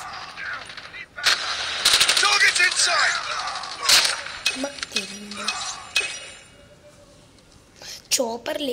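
Call of Duty gunfire rattles in loud automatic bursts and single shots, with metallic clinks, while someone talks over the action throughout.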